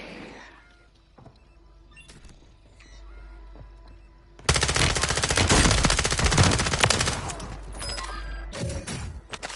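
Automatic weapon fire in a Warzone multiplayer match: quiet ambience with scattered clicks for several seconds, then a sudden, sustained burst of loud rapid gunfire and impacts that continues to the end.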